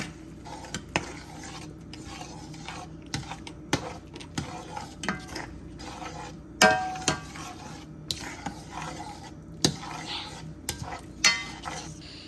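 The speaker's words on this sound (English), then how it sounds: "Stir that up, mash that garlic around." Spoon stirs and mashes garlic in a crawfish boil pot, steady scraping and clinking against the metal with frequent sharp knocks, close and continuous for several seconds.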